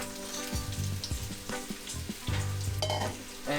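Onions sautéing in hot canola oil for Japanese curry, a steady sizzle with scraping stirs and clatter of a utensil against the pan, close and fairly loud, no talking.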